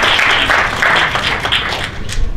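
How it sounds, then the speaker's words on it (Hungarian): Audience applause at a population-themed roundtable discussion at the Magyar Sziget festival in Hungary, a steady, dense wash of clapping from a crowd that holds evenly for a couple of seconds with no talk over it. "Budaházi Edda, azt hiszem, hogy ő is tapsot érdemel"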